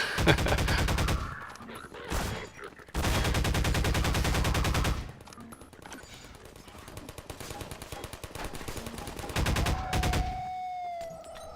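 Rifle gunfire in the video game Defendville comes in long, dense automatic bursts, loud and close, separated by short pauses. Quieter shots and effects follow, then a final burst before a tone trails off.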